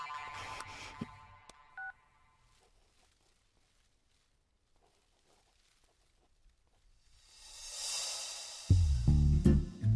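Telephone keypad tones beep in a short run of dialing at the start of a scene in a Hindi-dubbed South Indian action film. A soft hum follows, then a rising rush and a loud low thump.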